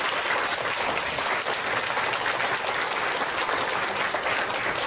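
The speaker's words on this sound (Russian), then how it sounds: "Ваши аплодисменты!" Steady, dense applause from a crowd at a business and investment conference, loud and continuous throughout with no pauses.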